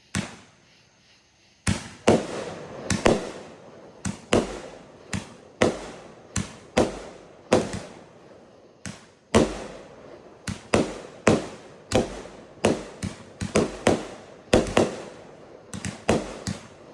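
A girandola firework bought from Crazy K Fireworks Store in Dyersburg, Tennessee, goes off outdoors in a long run of sharp cracks and booms, some doubled, after a quiet fizzing start, irregularly spaced and loud.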